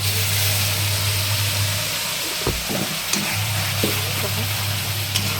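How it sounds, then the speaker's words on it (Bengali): Ground spice paste hits hot oil in a pan with a loud, steady sizzle and crackle. A low hum runs underneath, and scattered scrapes and taps of a utensil come through midway. "এবার পেস্ট করা মশলাগুলি দিয়ে ঢেলে দেব"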